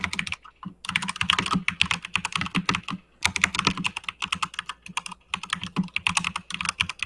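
Typing on a computer keyboard, a dense run of quick clacking keystrokes close by, broken by two short pauses.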